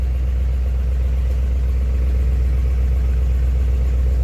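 A 1956 Ford Fairlane Victoria idles in drive with the choke coming off, giving a steady, close, low rumble that stays even throughout with no talk.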